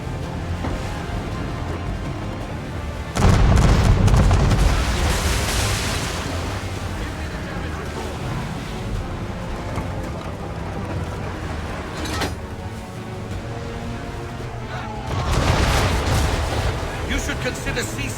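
Cannon fire from ships in an Assassin's Creed 3 naval battle: heavy booming blasts, one loud near volley near the start and another toward the end, with rumbling battle noise between and a voice talking over parts of it.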